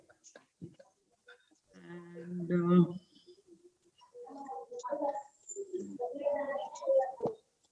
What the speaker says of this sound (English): I can hear birds in my balcony.